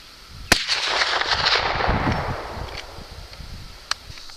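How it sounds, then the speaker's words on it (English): A Marlin 1894S .44 Magnum rifle with a BSA scope fires one Hornady 265 grain flat point round at a 200-yard target: a single sharp crack, then a long rolling echo that fades, and a faint click later. "Gonna take the shot in the sitting position."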